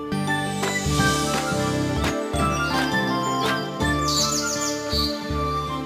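Cartoon-style bird chirps and tweets sound over steady background music, with a bright fluttering trill near the end.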